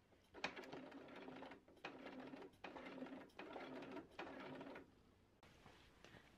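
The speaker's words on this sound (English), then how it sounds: "really carefully and slowly sewing over all those layers because it is a lot of fabric" A sewing machine stitches slowly through many thick layers of fabric in five steady bursts of whirring, each about a second long with brief pauses between, close and clear, then stops.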